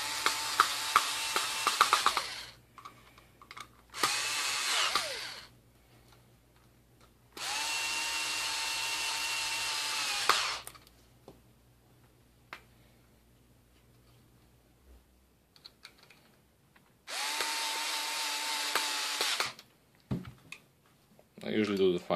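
A power drill drives screws while installing headlight projectors on a 2006–2014 Yamaha R6, whirring in three or four steady bursts of a few seconds each, close and loud, with quiet gaps and faint handling noises between.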